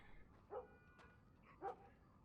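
Dogs bark in a game world's ambience, two separate short barks at moderate distance over a low steady background hum.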